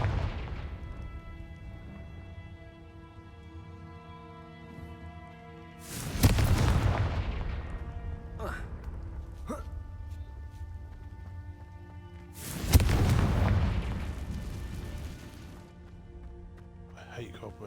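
Two loud booming bursts from Confringo spells cast in Hogwarts Legacy, each a sharp broadband blast with a decaying tail, spaced several seconds apart over steady game music and ambience.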